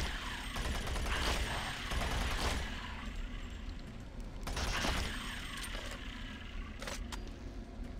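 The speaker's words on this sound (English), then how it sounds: "Can I do this with machine gun? Yes, I can do this with machine gun." Rapid machine gun fire from the first-person shooter Doom 3 BFG Edition, loud bursts near 0–2.5 s and again around 5 s, over a constant game ambience with sharp clicks later.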